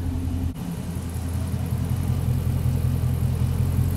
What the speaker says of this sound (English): Oh, there we go. The fans are now on.